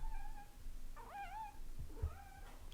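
A domestic cat meows quietly indoors. There are a few short, rising-and-falling mews, the middle one clearest, over low background noise.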